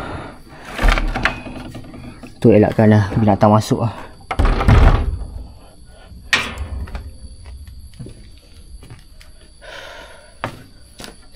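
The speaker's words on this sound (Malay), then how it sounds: "Jadi saya tutup balik pintu ni" A house door is pushed shut, giving a couple of solid wooden thunks amid nearby speech and some shuffling, then quieter room tone.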